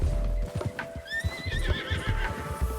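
In a Western video game, a horse gives a loud, close whinny while its hooves clip-clop in a steady, repeated rhythm, with no talking.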